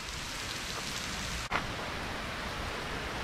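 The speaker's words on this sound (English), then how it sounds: "This is way too much rain" Heavy rain pours onto trees during a bicycle ride, a dense steady hiss of constant noise with a single brief knock or bump partway through.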